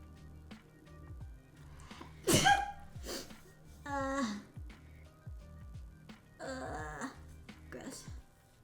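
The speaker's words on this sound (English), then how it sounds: "Oh no, I gotta sneeze." A single sharp human sneeze bursts out near the middle, set among quiet breathy vocal sounds and a low background hum, with a shorter throaty burst following soon after.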